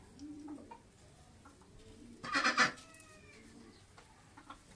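A rooster on a house rooftop, its legs loosely tied so it can only step slowly, gives a short loud call or cluck burst midway, with quieter faint bird sounds around it.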